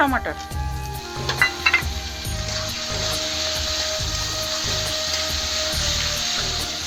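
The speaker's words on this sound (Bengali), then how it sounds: "টমাটারটা ভালো করে কষাই নেবো।" Tomatoes sauté with taro greens and prawns in a pan, sizzling steadily under rhythmic scraping strokes of a spatula, with a few sharp knocks at the start and nobody speaking.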